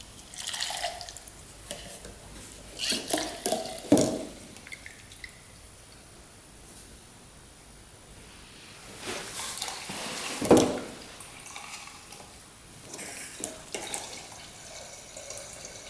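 Gasoline siphoned from a completely full ATV fuel tank drips and splashes in a few sharp, scattered drops and short trickles, close by against a quiet background with no talk.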